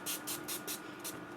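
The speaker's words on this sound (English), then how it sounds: "I'm going to use the Dazzling Diamonds, and I'm just going to spray this." Aerosol can of Glimmer Mist Dazzling Diamonds sprayed onto a paper flower, giving about six short hissing bursts in a steady rhythm, fairly quiet and close, with no talking.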